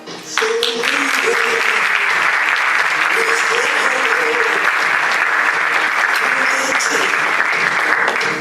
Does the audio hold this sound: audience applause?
yes